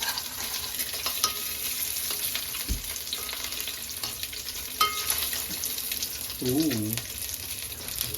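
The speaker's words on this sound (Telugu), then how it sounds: "రాజా వేసాడు తాలింపు వేసాడు" A spice tempering for brinjal egg curry sizzles and fries steadily in a pan close by, with stirring clinks and a brief voice in the background.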